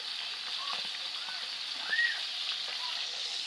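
Food frying in hot oil in a home kitchen, a steady broad sizzle that holds even and moderately loud throughout, with faint squeaky tones rising briefly over it.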